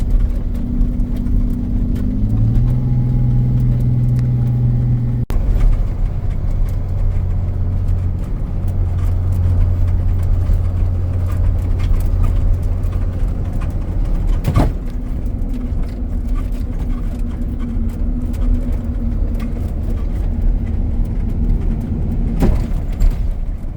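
A car drives along rugged mountain roads near Muncho Lake, its steady engine drone and tyre rumble continuous and loud, with a few gear or pitch shifts early on and occasional bumps from the road surface.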